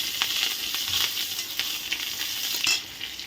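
Chopped onion and whole cumin seeds sizzle hard in hot oil for fish curry, a close, continuous frying hiss with scattered crackles and light stirring clinks, no voices.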